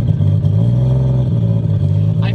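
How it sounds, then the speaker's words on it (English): An 800-horsepower three-rotor rotary engine in a Mazda RX-7 revs loudly and continuously with a buzzy, humming drone, pitch wavering slightly up and down, close and without talk. "I feel like this is the rotary sound"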